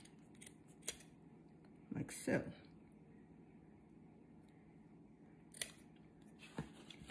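Scissors snip the string ends on a trussed chicken being prepared for rotisserie. A few short, close clicks and cuts are spread out over quiet moments, and a voice speaks briefly.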